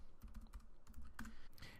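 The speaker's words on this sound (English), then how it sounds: "I'm typing one-handed" A computer keyboard is being typed on one-handed, giving quick, irregular, soft clicking keystrokes close by with no talking.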